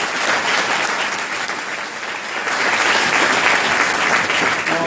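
Steady, loud audience applause fills a conference session on machine learning startups, a dense wash of many hands clapping continuously without pause.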